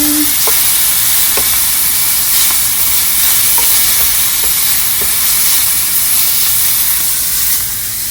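Shrimp stir fry sizzling in a hot pan as sauce is mixed in, a loud steady hiss with faint scraping stirring taps at irregular intervals.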